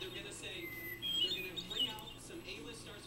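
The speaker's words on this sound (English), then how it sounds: "she really likes the sound of birds." Birds chirp faintly with small tweets and calls over low background noise, soft and somewhat distant, with faint human voices present.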